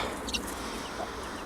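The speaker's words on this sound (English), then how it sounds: "one adult hen in here and 5 chicks." An adult hen clucks softly in an allotment coop housing five chicks, a brief, faint, close sound over low steady background noise.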